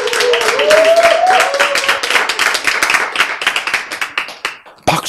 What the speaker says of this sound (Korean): 박수를 쳐야 힘을 받는다고